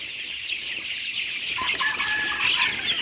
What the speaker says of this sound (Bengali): মুরগি মোটামুটি আজকে 18 দিন বয়স